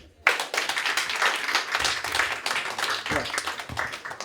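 An audience of women bursts into clapping after a short silence, steady close applause and cheering that carries on to the end, with some voices mixed in.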